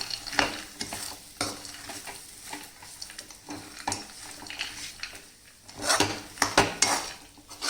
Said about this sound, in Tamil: இதை போட்டு ஒரு நல்லா கலக்கலாம்.